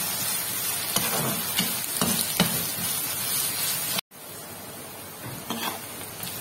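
Onions sauté in a pan for a dried-fish thokku, giving a steady loud sizzle with occasional stirring scrapes and a brief cut in the middle before the frying hiss resumes.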